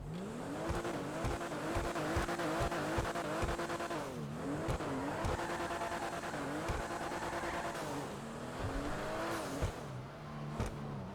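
Ubermacht Sentinel XS HSW car in GTA Online, its engine droning and revving steadily as it climbs and drops through gears, with tire squeal woven through a continuous, fairly quiet mix.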